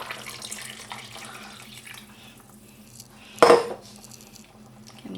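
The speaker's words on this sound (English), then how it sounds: "to the pot I add 1 liter of water" A liter of water poured from a container into a cooking pot of washed lentils on a stove, a sudden loud splashing gush after quieter kitchen clatter, then fading.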